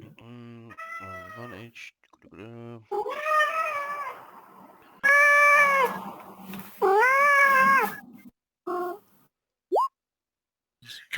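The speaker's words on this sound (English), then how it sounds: "Cat eating your microphone" A cat meows repeatedly and loudly right at a microphone while playing with it, several drawn-out meows close up, with brief speech in between.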